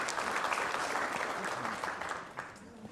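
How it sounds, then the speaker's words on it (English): An audience at a keynote address applauds in a steady, dense wash of clapping that tapers slightly toward the end, with some talking mixed in. "you should give all yourselves a round of applause for that"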